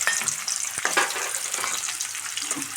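Chopped onion fries in coconut oil for a quick chicken curry, making a steady close crackling sizzle with small pops and a couple of sharp ticks from a utensil.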